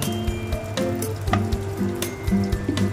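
Cumin seeds crackle in hot oil for a brief tempering, a light, fairly faint sizzle with scattered pops against steady tonal background sound.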